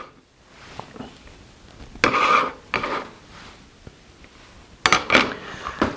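Keto macaroni and cheese being tossed and mixed in a bowl, with scraping, clinking utensil strokes coming in a few bursts separated by quiet gaps.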